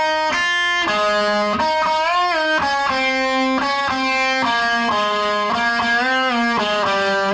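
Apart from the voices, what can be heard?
electric guitar playing a solo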